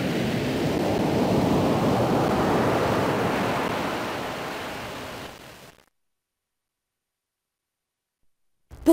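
Ocean waves wash in as a broad, steady surf roar that swells and holds for about five seconds, then cuts abruptly to silence before a brief burst at the very end.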